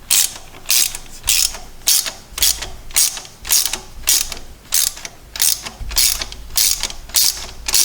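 A ratchet wrench snugs a double nut on a 1978 Ford Mustang II, clicking close by in a steady series of quick bursts, one every half second or so, with no talk.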